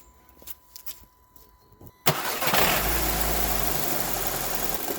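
A VW Eos, noted as Germany's cheapest, with an engine fault. After some faint clicks the engine cranks and catches abruptly, then runs on loud and rough as if close to stalling.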